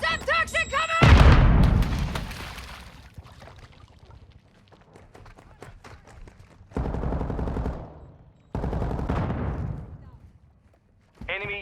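A Semtex grenade blast erupts amid automatic gunfire in the Call of Duty: Vanguard video game, with a loud boom followed by rattling bursts of shots and pauses between volleys.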